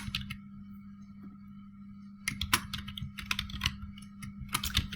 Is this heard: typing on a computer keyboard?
yes